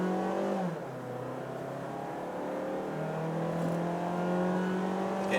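A Mazda 3 in sport mode revs as it drives, the engine note climbing and settling in a smooth whine heard from inside the car, with no talk.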